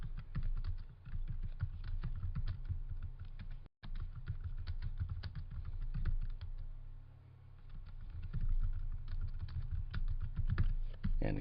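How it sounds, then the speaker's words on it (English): Steady typing on a computer keyboard, a continuous patter of close clicking keystrokes with brief pauses, running for about eleven seconds with no voices. "So we're going to type in some simple instructions here."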